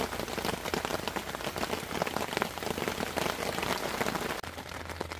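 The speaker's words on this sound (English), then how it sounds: "This rain is wild" Steady heavy rain patters on a taut tarp shelter in a pine forest, a dense drumming of drops that stays loud and even throughout.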